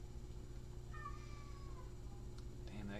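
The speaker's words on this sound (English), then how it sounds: "Damn that cat, he will not silence." A cat meows once indoors, a faint drawn-out call rising above a steady low hum, followed by a brief higher yowl near the end.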